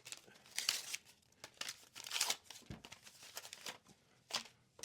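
Packing tape ripped and peeled off a sneaker box in several quick, crinkly tearing bursts, close and fairly quiet, with brief pauses between pulls.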